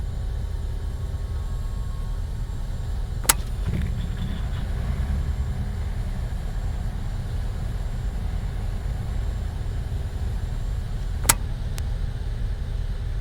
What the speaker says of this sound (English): So we'll watch the left side engine as we hit the fuel pump and engine start.